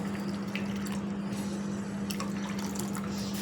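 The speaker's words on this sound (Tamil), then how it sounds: "புளி தண்ணியும் ஊற்றிருக்கேன்" Tamarind water pours steadily into a pot of jackfruit seed rasam, a continuous, fairly quiet liquid splashing with a constant low hum behind it and no talking.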